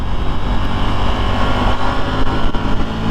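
A KTM Duke 890R twin-cylinder motorcycle engine revs hard and close, a loud, dense roar that holds steady for about three seconds with slight surges.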